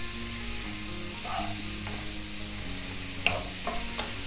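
Chopped ginger, green chili and garlic sizzle in hot oil for a homestyle crab curry, a steady frying hiss broken by a few soft clinks of stirring.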